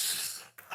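A voice mimics a dad's loud, explosive sneeze: a long breathy burst, a brief silent catch, then a sharp second blast at the end, delivered alone.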